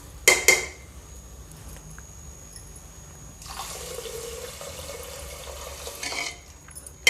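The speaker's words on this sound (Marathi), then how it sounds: "आता याच्यात आपण पाणी टाकून घेऊ" A sharp clink, then water pours steadily into a pot of fried rice for several seconds before stopping, close and moderately loud.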